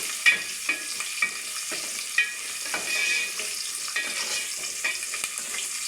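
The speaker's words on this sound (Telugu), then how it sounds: "కొంచెం దోరగా వేయించుకున్నాను నెయ్యిలో" Spices and almonds frying in ghee give a steady crackling sizzle, broken by scraping stirs at irregular moments across the whole stretch, close and moderately loud with no voices.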